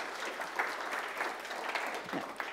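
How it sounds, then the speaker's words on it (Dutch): Applause from an audience at a science café in The Hague, a steady wash of clapping at moderate distance, fairly soft and continuous with no voices over it. "Nog een applaus."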